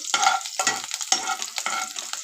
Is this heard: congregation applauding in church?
no